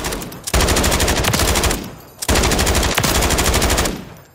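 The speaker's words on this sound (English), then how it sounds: "the amount of fire you can put down range just because you have the 100-round belt is pretty good" An H&K MG4A3 belt-fed machine gun fires in Call of Duty: Modern Warfare III, two long loud sustained bursts of rapid automatic fire separated by a brief pause.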